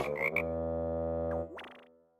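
Cartoon toad croak effect: a long, steady, buzzy droning croak from a Polish children's cartoon, ending in a brief rising squeak, close and clear with no speech.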